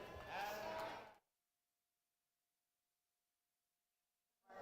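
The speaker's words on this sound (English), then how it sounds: "I think that's a nice sheep that Dylan will have a lot of luck with come down the road." A single sheep bleats loudly and close at a county 4-H livestock show, one sustained call that cuts off into near silence.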